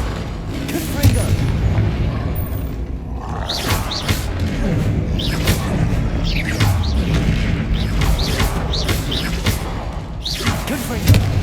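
Confringo blasting spells exploding in the Hogwarts Legacy video game, a run of loud booming blasts with crackling bursts over a dense rumbling battle bed, with voices shouting during the fight.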